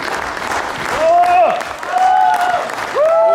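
Concert audience at a winter stage show claps steadily, a broad wash of applause with a few whistles or shouts rising over it.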